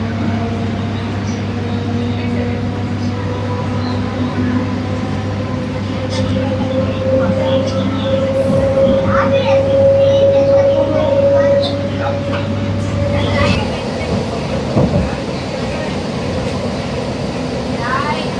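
A Vijayawada–Guntur MEMU train, number 67229, runs on after leaving Pedda Kakani halt, giving a loud steady rumble and hum from inside the coach that fades and shifts near the end.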